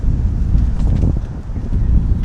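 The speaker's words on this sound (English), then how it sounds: "This is maybe the worst it's been all day, actually. Goodness me. Huge gusts of wind." Strong wind gusts buffet the microphone at an outdoor tennis court, a loud, continuous low roar that swells and churns throughout with no clear pauses.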